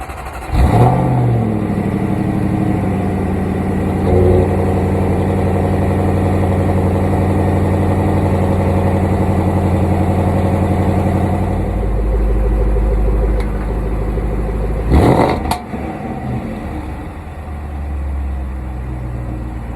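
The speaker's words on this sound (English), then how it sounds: "This is your 5-liter 8-cylinder engine with a supercharger, producing 550 horsepower." A supercharged 5-liter V8 in a 2024 Jaguar F-Pace SVR idles with a deep, steady rumble, blipping the throttle a couple of times with sharp revs, loud and close.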